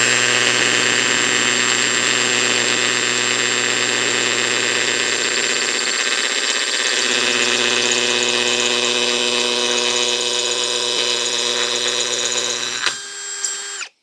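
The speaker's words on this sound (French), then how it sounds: "Et maintenant, on va pouvoir attaquer le perçage." An AEG BSB18C3BL cordless hammer drill bores steadily into hard material at low speed, a loud continuous whine with a steady hum that holds for most of the time, then falters and cuts off abruptly.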